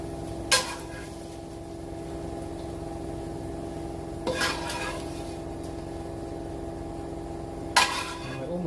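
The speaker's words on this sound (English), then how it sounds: "I'm going to use a slotted spoon because that way we can leave some of the fat from the mince still into the pan" A slotted spoon scrapes and clinks against a pan three times as cooked mince is lifted out, sharp metallic scrapes standing out over a soft steady sizzle and low hum.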